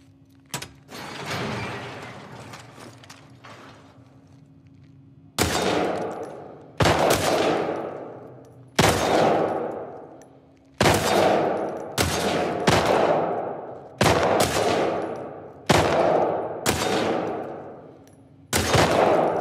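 Repeated loud gunshots ring out during a shooting contest in The Last of Us Part 2, after a lower rumbling start: about nine sharp reports spaced one to two seconds apart, each trailing off in a reverberant decay.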